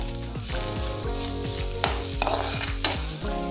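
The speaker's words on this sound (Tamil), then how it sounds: "நல்லா ஃப்ரை பண்ணி எடுத்துக்கலாம்." Vegetables for veg cutlets fry and sizzle steadily in a pan, with repeated stirring scrapes and occasional utensil clinks against the metal, close and continuous with no talk.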